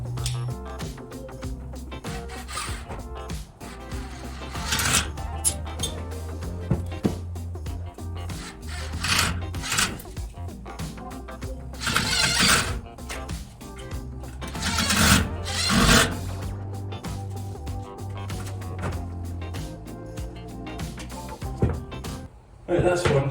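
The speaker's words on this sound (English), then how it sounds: "I'm just popping them on with 75mm long wood screws." 75mm wood screws are driven into timber battens during a narrowboat fit-out, giving repeated bursts of a whirring power driver with pauses between screws, loud and close throughout.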